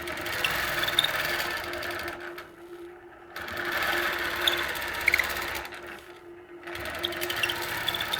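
A longarm quilting machine stitches a concentric design into quilt sashing with a fast, even mechanical whir, pausing briefly twice before it resumes, steady and close with no talking.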